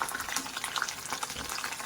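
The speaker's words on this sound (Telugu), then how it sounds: "తాలింపు పెడుతున్నానండి. అది కరివేపాకు, వెల్లుల్లి, ఎండుమిర్చి వేసానండి." Curry leaves, garlic and dried chillies tempering in hot oil for rasam, a dense continuous sizzle and crackle with scattered pops, steady and close with no talking.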